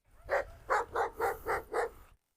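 An Anatolian shepherd dog, a large livestock guardian breed, gives six deep, evenly spaced barks close by in quick succession, each strong and resonant, with no voices over them.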